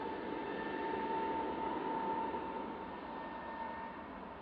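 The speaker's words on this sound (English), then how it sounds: "This is the British Airways coming in from London Heathrow" A British Airways airliner arriving at Manchester Airport from Heathrow gives a steady, broad jet roar with a faint high whine running through it, distant and even, easing slightly toward the end.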